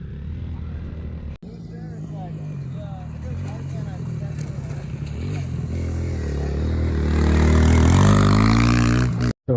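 Pit bike engine on a motocross track, a buzzing motor that climbs steadily in pitch and loudness as it revs harder, with talk mixed in over it.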